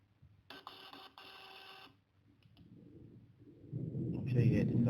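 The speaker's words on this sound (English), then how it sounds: "Turn on your Bluetooth, connect to the printer. So you can see, I can pick this one. So I can do a test print." A small Bluetooth receipt printer for a mobile point-of-sale system whirs in two short buzzing bursts as it prints a test page, then a low rumbling handling noise builds up, with a voice speaking briefly.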